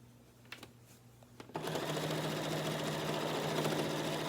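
A sewing machine stitches binding onto a quilt. A couple of soft clicks come first, then the motor starts with a sharp onset and runs in a loud, steady, rapid whir until the end, with no talk over it.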